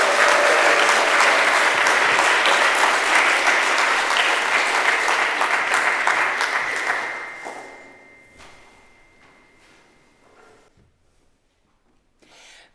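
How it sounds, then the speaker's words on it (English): A worship service congregation applauds Todd after his song, loud sustained clapping with a lingering tone that fades after about seven seconds to scattered final claps and quiet. "I just want another round of applause for Todd"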